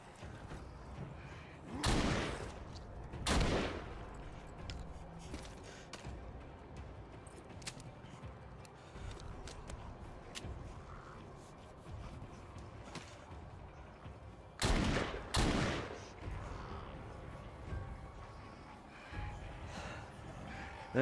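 A shotgun fires in the Walking Dead Saints & Sinners VR game, giving two loud, close blasts early on and another pair of booming shots later, with quieter thuds and movement noises between them.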